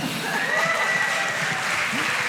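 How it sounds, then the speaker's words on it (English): A live show audience applauds for the Texas State Capitol, a steady broadband wash of clapping that stays loud and even for a couple of seconds with a faint tone running underneath. "Biggest round of applause tonight"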